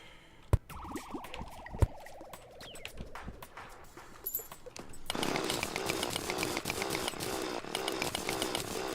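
A mechanical drill whirs in the video game Terraria with a steady buzzing, grinding drone that rises, then turns into a denser, harsher roar, punctuated by sharp clicks and impacts, with no talking.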